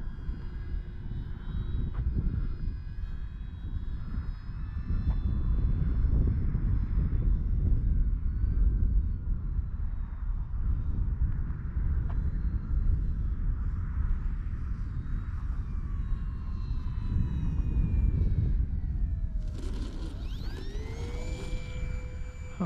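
An FMS Cessna 182 Skylane RC model airplane flies and comes in to land on grass, its electric motor a steady whine with pitch shifts that rises sharply near the end.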